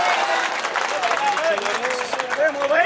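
A crowd at a political rally speech by a politician in Aurangabad claps and applauds in a dense, continuous wash, with a voice carrying over the clapping.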